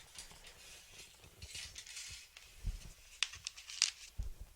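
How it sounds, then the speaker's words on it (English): Small screws being driven into an E-flite Viper 70mm EDF model jet, giving quiet intermittent ratcheting clicks and scratchy turns at close range, with a few sharper ticks between pauses. "Now we're going to install the screws."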